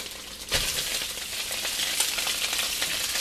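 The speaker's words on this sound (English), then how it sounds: "I'm going to put this rice in too." Cooked rice and tofu fry in a hot pan with a steady, dense sizzle, a louder burst as the rice goes in, and scraping stir sounds throughout, with no talking.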